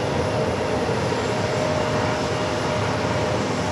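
Boeing 737 MAX 9 airliner at New York's JFK airport, a steady loud jet engine roar with a faint whine, unbroken throughout, no voices.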